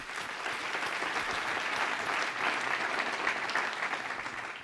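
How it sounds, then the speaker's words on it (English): Sustained audience applause fills a conference session hall at a development-finance meeting on agriculture, a dense, steady wash of many hands clapping at even loudness with no voices on top. "Could we have a loud round of applause for both of them?"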